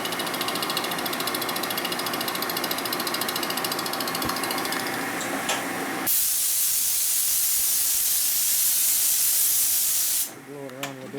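Compressed air blasts a loud, steady hiss that blows brake dust off a 1936-1948 Harley knucklehead springer bobber during a disc brake conversion, following a stretch of rattling mechanical noise, with a voice speaking at the end.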